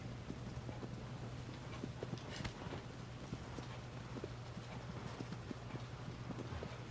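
Rhythmic hoofbeats of a horse galloping in the video game Shadow of the Colossus, steady clip-clop under a low constant hum and faint wind.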